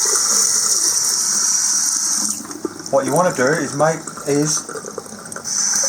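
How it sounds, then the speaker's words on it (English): Water runs and splashes steadily into a blocked sink drain, a continuous hiss under a voice as he talks partway through. "all you do is wash it down with some water."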